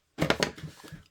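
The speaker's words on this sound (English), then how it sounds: "And then snip that off" Scissors snip through paper during a papercraft project: a short, crisp cutting and crinkling burst with a few quick close strokes, then fading paper rustle.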